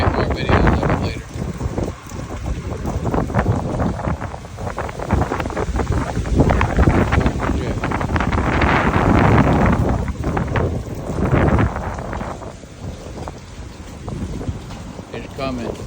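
Gusty hurricane winds from Hurricane Milton in Wauchula, Polk County, roaring and buffeting the microphone in loud continuous surges with sharper gusts throughout, no talk over it.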